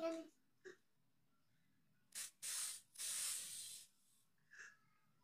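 A can of blue hair color spray hisses in a few separate bursts: one short, then two long sustained sprays close to the mic, with a brief puff afterward and faint breathy sounds between.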